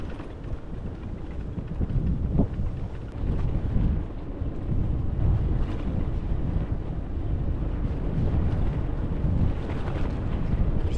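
Strong wind buffets the microphone as a loaded bicycle descends fast at around 70 km/h through forest toward Assos, a continuous loud roaring rush with no speech.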